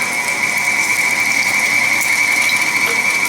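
A meat grinder on a coarse grind setting works through pork loin and bacon, producing a loud, steady mechanical whir with a constant high tone, running continuously throughout without any talking.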